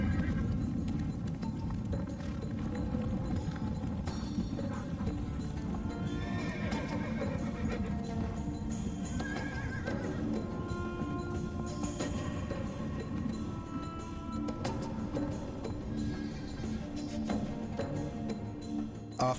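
Horses at an ancient breeding station for the heavenly horses, whinnies and hooves rising from a dense, continuous wash of herd noise and movement, steady and full throughout, with no talking.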